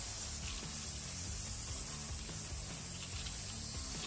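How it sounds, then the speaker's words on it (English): Pepper spray aimed at a snake in a comedy sketch, a steady, bright hiss running for about four seconds alongside a faint rhythmic ticking underneath, fairly quiet with no speech. "It's pepper spray for a snake."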